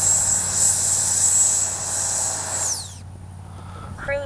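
A Freewing 90mm F-15 RC jet lands and brakes, its electric ducted fan whining loudly at first and then spinning down in a falling pitch, leaving a low steady hum and faint background noise.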